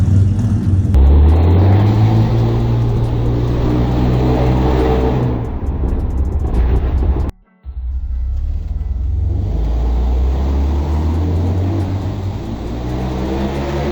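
A BMW 330i M Sport in sport mode revs up close and loud, its engine drone rising and falling through shifts, with a sudden brief cut before it pulls strongly again.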